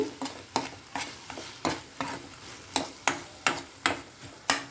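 A spoon stirs tomato and eggplant curry in a pan, making a steady series of soft, rhythmic scraping taps at close range, with a faint simmer beneath.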